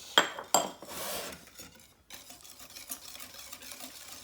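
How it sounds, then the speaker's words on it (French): Banana cake batter with oil being mixed in a bowl for a pan-cooked cake: two sharp utensil clinks against the bowl open a brief scraping stir, then quieter soft mixing sounds continue close by. "Et je continue donc de mélanger."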